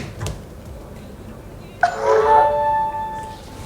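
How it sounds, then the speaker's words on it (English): A MIUI 12.5 phone system sound, the charging tone on a Redmi Note 10 Pro Max, rings out as a single bright chime with ringing overtones, clear and close after a quiet stretch, then fades. "also the charging sound has been changed, guys"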